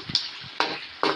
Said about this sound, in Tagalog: nagprito na rin po tayo ng tofu or tokwa